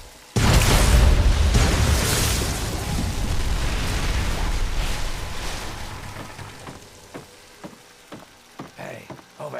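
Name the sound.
explosion sealing a hole in the video game Fallout 3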